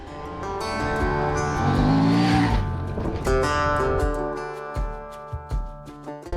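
A 2024 Honda Transalp XL 750 adventure motorcycle revs up and down through a rocky, rutted desert wash, engine rising then easing off, followed by a run of sharp clunks and knocks from rocks.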